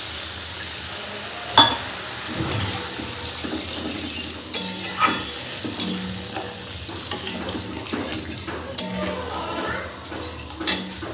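Water poured into poppy seed masala frying in a pan for katla kalia, a steady sizzle broken by stirring scrapes and clinks of a utensil against the pan, close and continuous.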